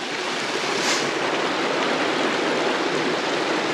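A mountain stream of snowmelt on Mount Rainier's Skyline Trail rushes in a dense, steady, loud wash of flowing water with no voices.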